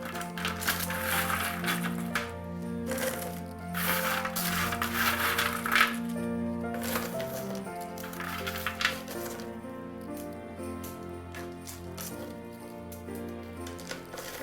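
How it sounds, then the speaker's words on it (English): Roasted almonds are tipped and shifted onto a clean sheet of parchment paper, giving scattered light clicks and rustling crackles, with steady tonal music playing throughout. "I'll move the almonds to a clean sheet of parchment paper, and then I'll put them in the jar."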